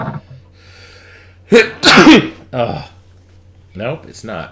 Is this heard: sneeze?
yes